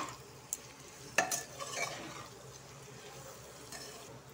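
Young jackfruit frying in a pan with salt and turmeric is stirred for a biryani, giving a soft, steady sizzle broken by a few brief scrapes and knocks of the utensil, fairly faint and with no talk.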